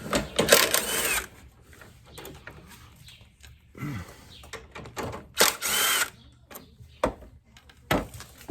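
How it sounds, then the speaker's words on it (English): A power tool whirs in loud, short bursts while undoing the radiator bolts on a 1986 Yamaha Venture motorcycle, with rattling and handling noises between the bursts. "I think I'm gonna undo the 4 rad bolts just so it comes forward a little bit."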